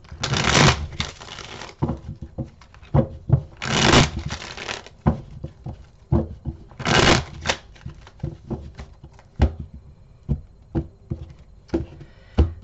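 Tarot cards being shuffled by hand in repeated riffling bursts, each a brief crisp rush followed by softer taps and shuffles of the deck, close and clear, with no talk.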